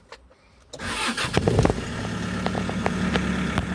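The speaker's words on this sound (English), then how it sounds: "Start the engine." A white 2008 Hyundai Porter II Super Diesel manual truck cranks and fires up after a short quiet pause, then settles into a steady close diesel idle with light clicks.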